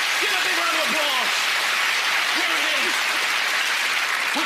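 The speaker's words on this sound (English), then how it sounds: "Give a big round of applause." A television studio audience at a magic show claps in a steady, full round of applause, with a voice briefly speaking over it.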